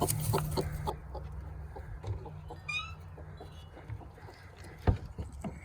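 A broody hen clucking inside a chicken coop built on a trailer, a few soft low clucks close by among rustling and scraping handling noises, with a short higher squawk midway.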